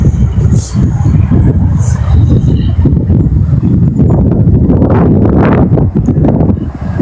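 Steady, loud wind buffeting the microphone outdoors in Kyiv, a continuous low roar with gusts and faint rustling throughout.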